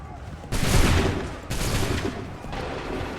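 Musket volleys crash out in Assassin's Creed 3: three loud, broad fusillade bursts about a second apart, each a ragged roar of many shots fired together that rings on before the next.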